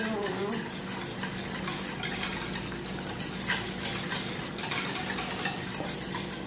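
Warm milk mixture for bread dough being stirred in a bowl, continuous scraping and light clinking of a utensil against the sides, fairly close and steady.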